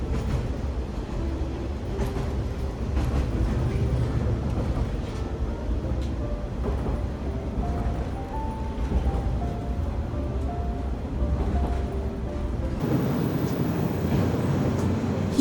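A KiHa 47 diesel local train rolling into Higashihama Station, with a steady low engine drone and rumble heard from inside the carriage, rising and falling tones as it slows, and a continuous rattling wheel roar.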